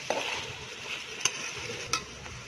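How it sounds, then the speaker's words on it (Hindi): Peas being stir-roasted in a pan, a soft sizzle punctuated by three or four sharp spoon-against-pan scrapes, close and fairly quiet, with no voices. "मटर, जो 10 मिनट और भूनेंगे।"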